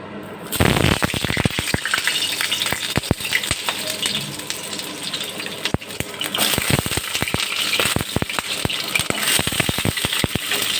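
Pointed gourd pieces dropped into hot oil in a kadai fry with a loud, steady crackle, broken by many sharp pops and spits throughout, close up with no talking.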